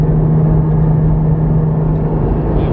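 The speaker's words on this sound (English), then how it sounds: "So here we go, another car passing me." A steady, loud road rumble with a low engine hum, as a car passes close by a Porsche GT4 at highway speed.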